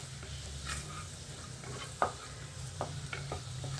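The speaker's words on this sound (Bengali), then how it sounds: "এবার এর মধ্যে ছেড়ে দেব পালং শাকটা" Spinach with fenugreek and garlic frying in a pan, a soft steady sizzle under a low hum, with a few sharp scraping clicks as a spatula stirs the greens, quiet and close, no talk.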